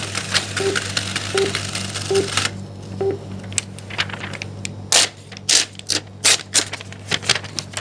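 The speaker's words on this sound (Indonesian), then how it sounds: "Sekarang kita print hasil rekaman EKG kita." An ECG machine prints a recording: a steady, loud mechanical whir with rhythmic ticks for a couple of seconds, then a run of separate clicks and short bursts as the printout finishes.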